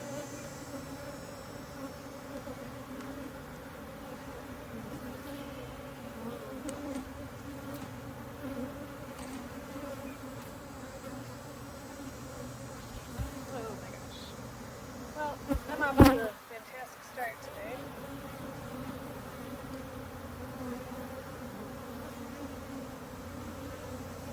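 Honey bees swarm densely around an opened hive during a robbing frenzy after honey extraction, making a steady, close buzzing drone throughout, with a brief loud handling noise near the middle.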